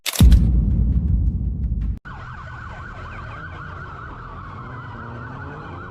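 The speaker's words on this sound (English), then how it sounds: "the suspect sped off to the sound of police sirens" Police car sirens wail steadily during a vehicle chase, starting after a loud burst of rumbling road noise and continuing as a sustained, fairly close oscillating tone with no talk.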